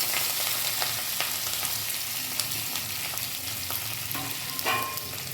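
Boiled potatoes go into a pan with cumin, curry leaves and green chili pieces for a farali potato dish. A steady, dense sizzle of frying fills the clip, with scattered scraping stirs throughout and no voices.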